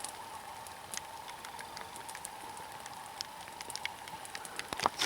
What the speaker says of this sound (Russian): Костер. Вот какой красивый у нас.